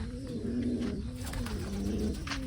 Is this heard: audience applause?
no